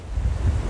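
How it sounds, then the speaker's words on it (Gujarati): Strong cyclone wind with crashing sea waves at Dahej port in Bharuch, a loud, steady roar of gusts buffeting the microphone over surf, brief and unbroken. "પવન ફૂંકાઈ રહ્યો છે"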